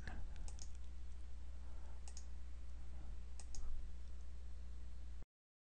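Repeated computer mouse clicks while selecting items in the TapToTalk Designer software, a handful of sharp faint clicks spaced irregularly over a steady low background hum, with no talking.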